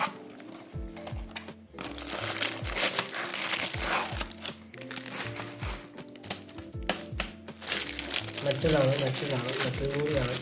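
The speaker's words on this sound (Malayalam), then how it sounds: "അപ്പോൾ നമുക്ക് സമയം കളയാതെ ഇതും അൺബോക്സ് ചെയ്യാം." A packet of gadgets being unboxed, plastic packaging crinkling and rustling with scattered taps and handling noises, close by, with a voice talking over it in places.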